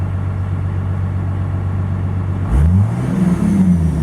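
A 1996-1999 Dodge Ram 12-valve diesel truck engine idles with a steady low rumble, then revs up briefly and settles back down, close by.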